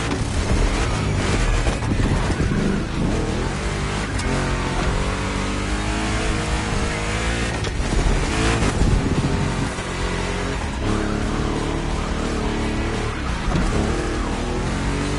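A powerful big block engine revving and roaring in the driving game The Crew Motorfest, loud and sustained with rising and falling pitch, plus wind rush throughout.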